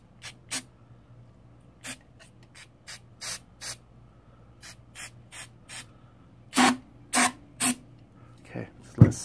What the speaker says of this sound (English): Some more brake cleaner to it.